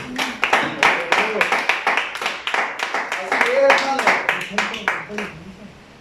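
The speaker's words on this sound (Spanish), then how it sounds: "denle un fuerte aplauso a Cristo" A church congregation claps in a steady burst of applause while a pastor speaks over it, the clapping dense and fairly close throughout.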